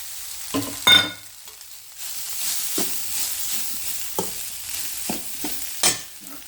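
Crumbled leftover rice from the night before is tipped into a pan of tempering and stirred, giving scraping spoon strokes and soft sizzling with several sharp knocks and scrapes spread across the stretch.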